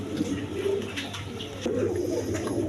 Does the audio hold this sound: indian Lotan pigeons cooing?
yes